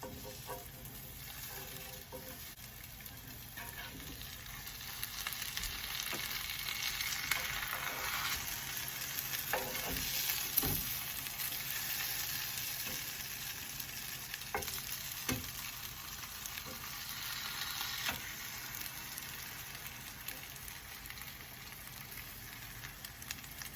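Slices of challah French toast fry in a pan with a steady, close sizzle and crackle, interrupted by a few soft clinks and scrapes from handling in the pan, with no talk.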